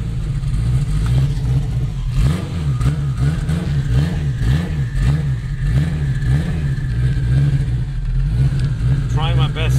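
Straight-piped turbocharged 2002 Acura RSX Type-S running in cold weather, a loud close droning exhaust with rising and falling revs throughout, with someone talking over it.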